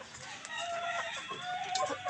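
Chickens cluck and a rooster crows among farmyard fowl, the calls overlapping at moderate distance over a quiet background.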